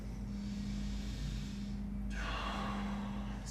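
A deep breath in and out during a stretching routine for low back pain, a slow airy inhale then a fuller exhale heard close and soft over a steady low hum, with no talking.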